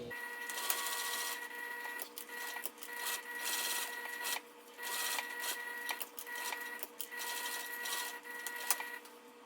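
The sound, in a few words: sewing machine top stitching cotton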